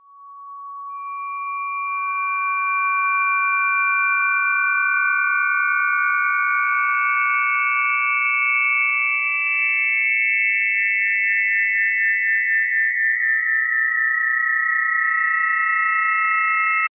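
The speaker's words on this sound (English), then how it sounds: "sine waves at high pitches are sometimes annoying" Pure electronic sine-wave tones between 1,000 and 2,500 Hz play in overlapping layers, steady and piercing, shifting to higher pitches partway through and sustaining loudly with no voices.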